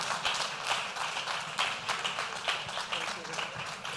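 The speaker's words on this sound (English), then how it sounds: "Can we please keep the applause coming for Hajia Bala Usman?" Sustained applause from an audience at a business lunch in Lagos, dense clapping throughout with a voice speaking over it.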